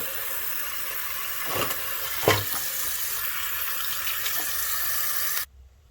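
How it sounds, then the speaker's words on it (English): Tap water runs steadily into a sink while small tools are rinsed in it. A couple of faint clinks sound under the flow, which stops abruptly near the end. "I'm gonna rinse these little suckers."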